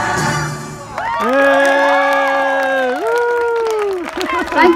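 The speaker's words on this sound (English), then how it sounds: "Let's give Josh a huge round of applause and a cheer." An audience of children and adults at a school cheers and applauds after a child's song, with loud sustained whoops and shouts over clapping.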